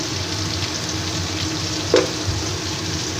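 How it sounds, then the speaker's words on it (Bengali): Vegetables frying in a pan for a Bengali vegetarian bitter curry, a steady close crackling sizzle running throughout with one brief louder clink near the middle. "এবার সবজিগুলোকে আমি ভেজে নিব"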